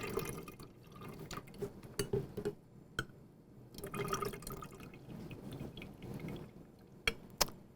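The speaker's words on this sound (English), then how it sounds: "we're going to pour that liquid into our blender." Liquid is poured into a blender jar in a home kitchen, with irregular splashing, drips and glassy clinks, quiet and close, no one speaking.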